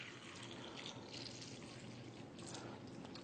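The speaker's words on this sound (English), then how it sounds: "we're just going to simulate that by pouring some tap water in here" Tap water pours into a container, a steady close rushing and splashing flow that holds constant for a few seconds at low volume with no talking.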